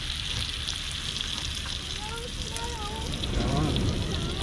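Barramundi fries in a pan over an outdoor fire at night, giving a steady, close hiss and crackle that runs throughout, with faint background sounds and brief tonal chirps partway through.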